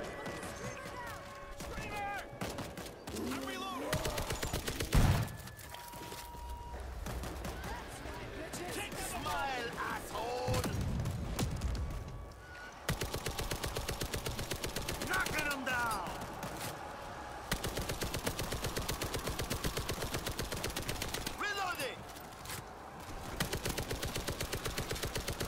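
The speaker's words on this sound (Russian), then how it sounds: "Постреляем немножко с пулеметика." Machine gun fire in the video game World War Z Aftermath, long rapid bursts of gunshots rattling almost nonstop, with brief pauses, loud and mixed with in-game noise and voices.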